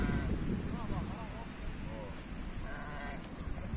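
Sheep and roughly three-month-old lambs bleat in a farm pen, several wavering calls rising over a breezy outdoor background, with a person's voice nearby.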